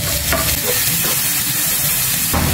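Ginger, garlic, onion and tomato sauté in a hot pan for pork binagoongan, giving a loud, close, continuous sizzle broken by a few stirring scrapes, with no talk.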